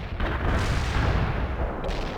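Artillery barrage in World in Conflict: a continuous, heavy roar of overlapping booms and rumbling blasts, loud and dense from start to finish.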